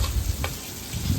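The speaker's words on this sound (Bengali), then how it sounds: "লাল লাল করে মাংসের আলুগুলো ভেজে নিচ্ছি" Potatoes fry in hot oil for a meat curry, a brief close, steady sizzle with a light scrape of a spoon partway through.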